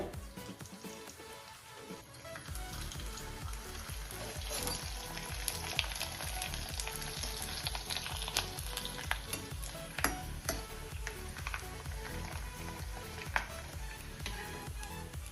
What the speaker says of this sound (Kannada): ಕರಿಯೋಣ. ಎಣ್ಣೆ ಕಾದಿದೆ.